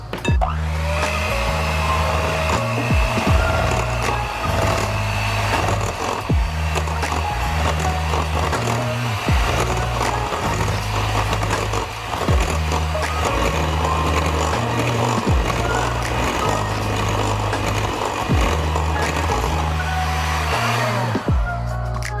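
Electric hand mixer running at low speed through cheesecake filling with vanilla for a no-bake cheesecake, a steady loud motor whir with a pulsing rhythmic thump throughout, no talking.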